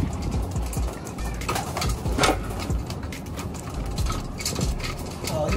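Pigeons coo softly over a low, steady outdoor background with faint bird calls and a distant hum, while the birds drink water, and nobody speaks.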